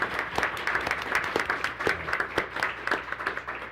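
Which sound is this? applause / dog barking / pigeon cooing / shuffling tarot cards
applause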